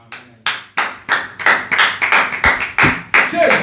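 A church congregation claps in a steady, accelerating rhythm while acclaiming Jesus during worship, with about a dozen sharp, loud, close claps. The claps build into a dense, overlapping beat.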